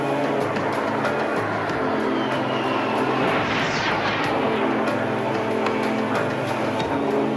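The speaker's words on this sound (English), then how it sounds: "The Warthogs fly low and root out enemy SAM sites with Mavericks and Mark" A-10 Warthog jets fly low overhead, a loud continuous roaring drone of turbofan engines with a whining sweep as one passes close, with no talking.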